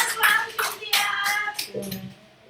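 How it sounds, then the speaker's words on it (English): A brief burst of clapping from a small group, mixed with cheering voices, fading out after a couple of seconds. "give yourselves a round of applause"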